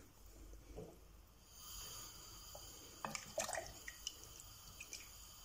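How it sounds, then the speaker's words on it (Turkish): Milk poured into a pot for Turkish rice pudding, a soft liquid splash and trickle building gradually, faint and close, with small drips and sloshes toward the end. "Şimdi üzerine 5 su bardağı süt ilavesi yapıyorum."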